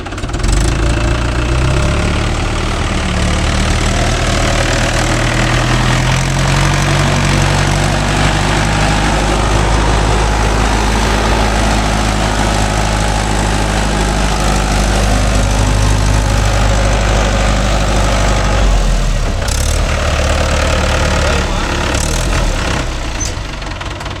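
A JCB 3DX backhoe loader's diesel engine runs loud and close, a continuous throbbing rumble with shifting low tones as it works, steady throughout with no speech.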